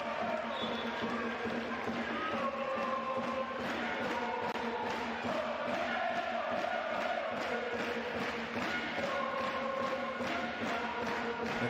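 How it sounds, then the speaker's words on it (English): Arena crowd noise at a women's EuroLeague basketball game in Schio, a steady roar of cheering spectators throughout with a few sustained voices and chants rising above it, under a commentator's talk. "The crowd in fine voice here in Schio, cheering their team on"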